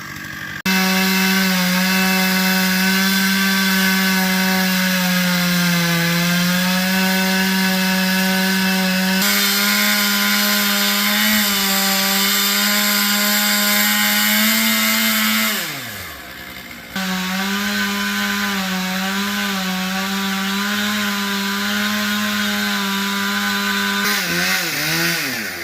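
A chainsaw cuts through a tree, its engine droning loudly and steadily with pitch dips as the chain bites into the wood, a brief pause, then cutting resumes at full throttle.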